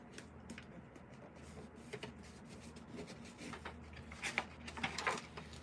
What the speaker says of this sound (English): Just seeing me tape up a page.